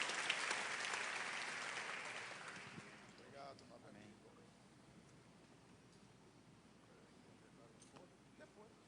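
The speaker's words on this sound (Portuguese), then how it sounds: "eu gostaria que você mais uma vez recebesse esse querido pastor com um grande aplauso" A church congregation applauds its pastor during a Portuguese-language worship service. The clapping is strong at first, then thins over a few seconds and fades into low, scattered crowd noise.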